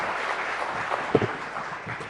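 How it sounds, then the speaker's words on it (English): An audience at the News18 Rising Bharat Summit 2024 applauds to welcome Smriti Irani, a dense, even wash of clapping across a large hall that holds steady throughout. "She deserves a bigger round of applause and welcome"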